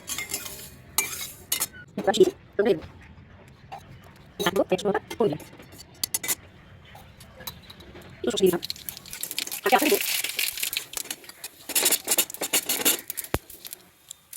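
A metal ladle scrapes and rubs fried apple against a pan for chutney in short, irregular strokes while a person talks over it.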